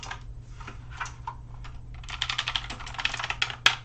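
Rapid typing on a Royal Kludge RK61 mechanical keyboard with blue switches, soft at first and then louder, crisper clicky keystrokes building toward the end, with one sharp final clack.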